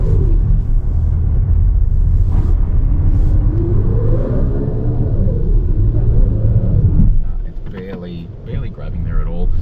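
A medium SUV in rear-drive mode strains on an off-road climb, its engine rising and falling in a heavy revving rumble with wind buffeting, while a voice speaks over it.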